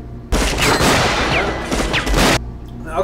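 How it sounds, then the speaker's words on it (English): Rapid gunfire from the 1993 action film Hard Target erupts loud and dense for about two seconds, a fusillade of overlapping shots that cuts off abruptly into quieter background. "Okay, cool gunshot."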